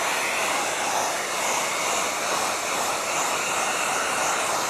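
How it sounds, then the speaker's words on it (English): A heat gun warms vinyl wrap inside a deep recess on a van, giving a steady, close, loud blowing hiss that runs unbroken with no speech. "So we're going to heat it."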